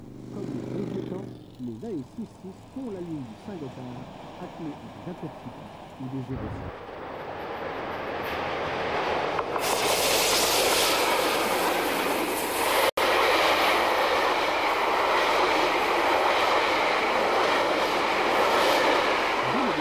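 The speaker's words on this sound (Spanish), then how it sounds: "esta locomotora marcha en cabeza de los trenes Intercity y Eurocity por San Gotardo" Rail noise swells as an electric locomotive hauling an Intercity passenger train on the Gotthard line approaches and passes, first with squealing tones, then a loud, dense roar of wheels and rushing air.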